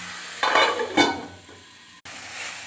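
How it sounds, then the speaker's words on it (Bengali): Drumstick stems and potatoes fry with onion, turmeric and salt in a pan, giving a close sizzle with a couple of brief stirring scrapes, then quieter frying. "এটা ভেজে নিচ্ছি"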